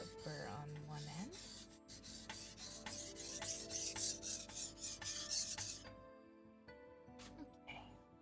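A blade is sharpened on a whetstone in repeated rhythmic strokes, each a gritty rasp, building through the middle before trailing off, with a voice speaking at the start and end.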